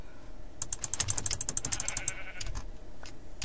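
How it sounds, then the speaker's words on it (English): Sheep bleating in the video game Minecraft, several short wavering bleats heard close over a rapid patter of keyboard clicks. "Sheep!"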